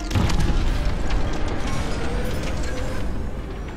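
A corvette blowing apart in Star Wars Squadrons, heard as a loud, sustained rumbling boom with crackling debris that rolls on for several seconds.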